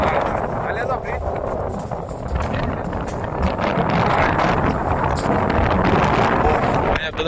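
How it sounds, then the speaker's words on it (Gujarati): Strong wind buffets the microphone at Suvali beach, a steady loud rushing roar that fills the whole stretch without letup. "પવન બહુ સારો છે"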